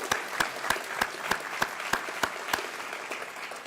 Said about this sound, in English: how about another round of applause for Icelandair?